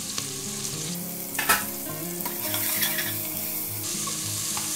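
Onions frying in oil in a pan, cooked down like birista for egg biryani: a steady close sizzle with scraping stirs and occasional clatters of a spoon, no voices.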